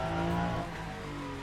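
Hypercar engine in the racing game Le Mans Ultimate, a steady droning tone held at close range, slightly louder at first and then easing off a little.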